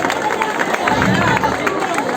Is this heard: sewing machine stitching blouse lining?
no